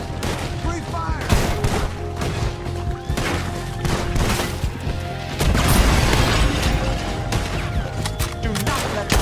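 Shootout gunfire in the video game Red Dead Redemption 2, dense overlapping shots and impacts cracking continuously over a game score, with shouting voices mixed in.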